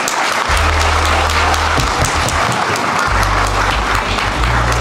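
Crowd applause for preschoolers at an end-of-school-year ceremony, loud and continuous throughout, with a low steady hum running beneath the clapping.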